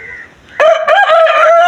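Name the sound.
black rooster crowing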